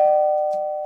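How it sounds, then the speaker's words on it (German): A toy-style electronic doorbell gives a single steady chime tone, close and clear, fading slowly, with faint clicks near the start and end. "Er hat geklingelt."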